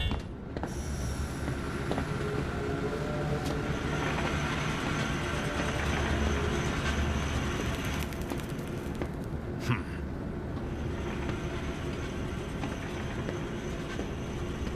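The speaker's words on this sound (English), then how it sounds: "Now drag the trolley to the gates." In the video game Zoochosis, a gadget trolley is dragged along rails, a steady loud rumbling roll with a metallic clunk partway through that carries on unbroken for the whole stretch.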